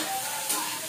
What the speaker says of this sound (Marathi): तेल टाकून गवारी भाजून घेतली